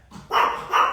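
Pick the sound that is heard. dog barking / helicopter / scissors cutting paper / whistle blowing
dog barking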